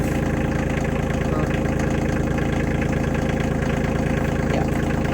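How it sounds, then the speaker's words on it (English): A farm tractor engine idles steadily nearby, a continuous low mechanical rumble with an even, knocking pulse that holds at one level throughout. "You want to drive the tractor?"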